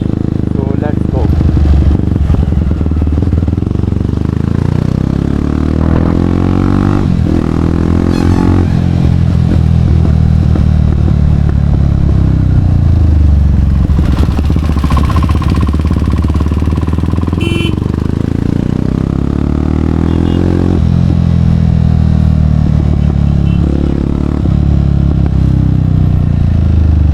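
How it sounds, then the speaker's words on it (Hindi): A Jawa 42 Bobber motorcycle fitted with clip-on handlebars is ridden, its engine loud and steady with revs rising and falling and heavy wind rush throughout, while a voice speaks now and then. "मैं थोड़ी सी इसको बाइक चलाऊँगा और एक्सपीरियंस शेयर करूँगा"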